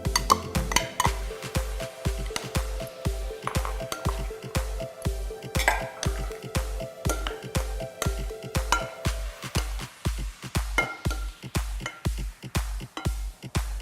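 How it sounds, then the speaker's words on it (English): A whisk beats a vegan mushroom and cannellini bean marinade in a bowl, producing steady, brisk rhythmic strokes with dull knocks and light clinks against the sides, close and fairly loud. "So we'll just whisk this together."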